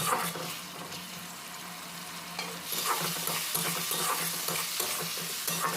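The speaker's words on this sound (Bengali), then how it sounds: "পেঁয়াজের সঙ্গে এখানে আদা রসুনটাও হালকা ভাজা হয়ে গেছে" Onion, ginger and garlic fry in a pan for a pomfret curry, a steady close sizzle with stirring scrapes that grows busier and louder partway through.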